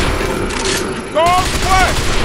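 Gunfire crackles through the Binary Domain combat scene as a steady, dense rattle of shots, with electronic whirring tones and a voice talking over the shooting partway through.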